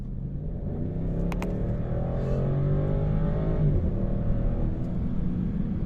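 A BMW X6 50i V8 engine roars up through the revs while accelerating, a deep, steady rumble rising in pitch from inside the car.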